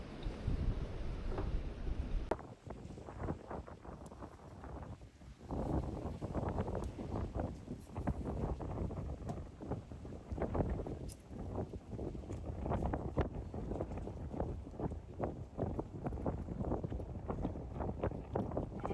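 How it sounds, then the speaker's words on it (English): Gusty east wind sweeps across a beach fishing pier at Navarre Beach, roaring steadily into the microphone with rough buffeting bursts throughout and no clear talk. "but that wind was blowing."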